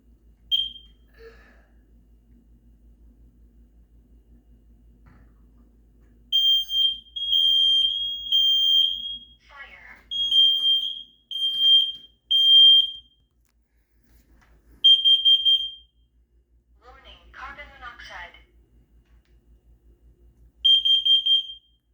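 A building fire alarm sounds during a test, its loud, piercing tone blaring in repeated bursts of varying length with short gaps between, close by and alone with no talk.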